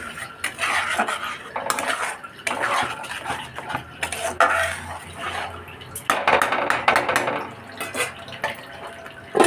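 Mixed vegetables being stirred in a pan, with repeated metallic scraping and clinking of a utensil against cookware in uneven bursts, close and fairly loud, with faint dripping in places.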